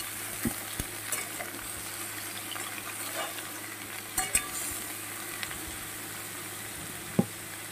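Pointed gourd and potato pieces frying in a pan, a faint steady sizzle with occasional soft clicks of stirring, no voices.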